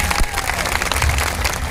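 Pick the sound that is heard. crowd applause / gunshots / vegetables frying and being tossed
crowd applause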